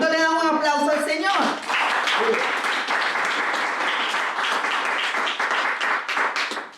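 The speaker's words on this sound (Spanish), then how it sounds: "Entonces le damos un aplauso al Señor." A church congregation claps during a Spanish-language service; the clapping starts after a sung or spoken phrase and continues steadily and fairly close for several seconds before tapering.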